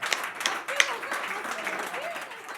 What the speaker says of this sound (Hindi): जोरदार तालियों से उसे आमंत्रित करिए